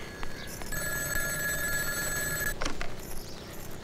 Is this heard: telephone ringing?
yes